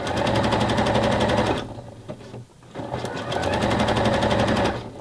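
A sewing machine stitches elastic onto bra fabric in a loud, steady rapid run, pauses briefly for about a second, then resumes the same fast rhythmic stitching.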